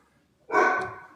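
A dog gives a single short bark, fairly close and clear, after a quiet moment.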